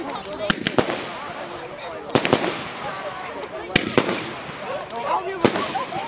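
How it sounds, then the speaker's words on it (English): Fireworks exploding on bonfire night, sharp cracks and bangs at irregular intervals, with people talking in between. "Oh, yes, the fireworks will come up."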